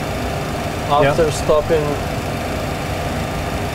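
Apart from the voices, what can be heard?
Boeing 737 remaining engine idling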